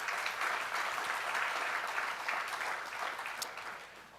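An audience in a church setting gives a sustained round of applause, dense steady clapping that holds strong then begins to thin and fade toward the end, with no speech over it.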